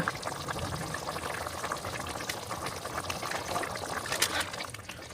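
Chicken for chicken varuval cooking under a lid in a pan, giving a steady, close bubbling and simmering sound with soft liquid crackles throughout, no voices.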